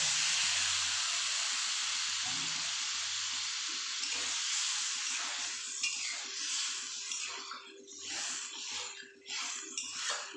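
Boiled, diced potatoes poured with their cooking water into a hot pan, giving a sustained watery hiss and sizzle that eases into bubbling and faint clatter, close by.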